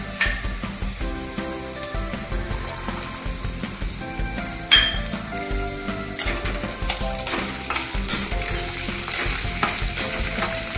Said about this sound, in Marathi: आता आपण वाटाणा फ्राय करून घेऊ